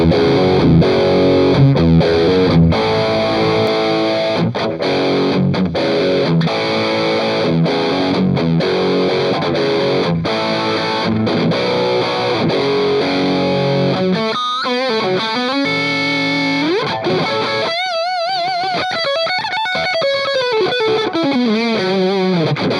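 High-gain distorted electric guitar through a custom modern hi-gain amp preset, loud and continuous, playing chugging chords and riffs that give way to sustained, bending lead lines.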